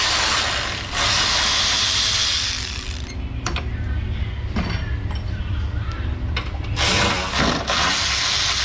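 A ratchet working on brackets in the engine bay of a Honda Odyssey, close mechanical clicking and grinding in bursts, with sharp metallic knocks between runs of noisy turning.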